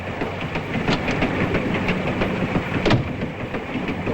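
A European passenger train runs steadily on rails in the early 1950s, a continuous rumbling roll with faint rhythmic clickety-clack over the joints and a brief louder clatter near the end, with no voices.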